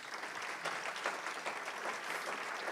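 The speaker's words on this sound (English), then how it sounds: "Let's give them a round of applause." Audience applause at a Rotary Club of Madison meeting after new board members are introduced, a steady wash of many hands clapping at moderate level for a few seconds.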